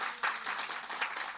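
Church congregation clapping in thanks, a steady patter of many hands sustained through the moment at moderate, slightly distant level, with no voices over it.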